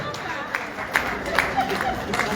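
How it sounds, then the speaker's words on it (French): Audience at a Congolese theatre gala applauding, scattered claps and crowd noise under a speaking voice, fairly close and moderately loud. "on applaudit très très très très fort"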